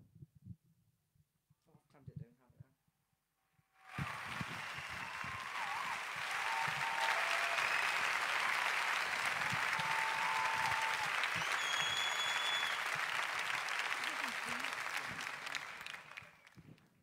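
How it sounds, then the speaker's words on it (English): Sustained audience applause at a live music session, starting abruptly after a few seconds of quiet with faint voices, then holding dense and loud for about twelve seconds before tapering off. "I'll give you your applause"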